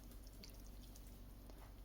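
Hot water poured into a pan of snickerdoodle cobbler batter, a steady close liquid pour with faint dripping, alone without talk.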